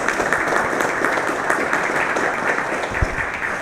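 An audience applauds to honour Ritzel at a safety training course opening, steady dense clapping from many hands that holds at an even level throughout, with no voices standing out.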